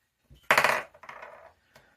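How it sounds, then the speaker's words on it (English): Dice from a rainbow roller race game tumble and clatter briefly on a hard surface, a sharp burst of rattling followed by a second shorter roll and a final small knock, close and fairly loud with no talk. "And I roll the dice."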